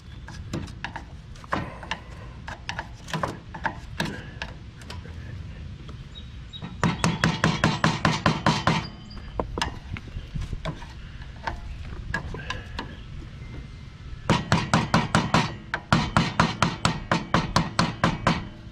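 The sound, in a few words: hammering out worn upper king pin bushing, lawn tractor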